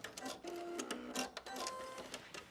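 A sewing machine stitches slowly over the pressed darts of a slip dress in short, uneven bursts of needle clatter, with soft mechanical clicks between the stitches.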